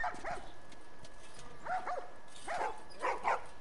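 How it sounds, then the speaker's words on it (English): Dogs bark and yip in The Last of Us video game, short clustered bursts over a steady background hum, moderately close and with no speech. "These dogs are all accounted for."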